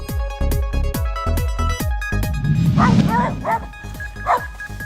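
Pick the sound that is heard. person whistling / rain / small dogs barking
small dogs barking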